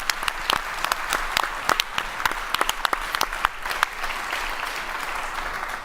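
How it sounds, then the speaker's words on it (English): An audience applauds a panel at a conference stage event, giving a sustained round of clapping with distinct individual claps standing out, gradually thinning toward the end. "Big applause for sharing the insights and being with us here today."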